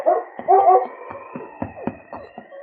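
Sled huskies in the snowy Yukon bark and howl repeatedly, a rapid series of sharp yelps and drawn-out howls up close, with a steady tone running underneath.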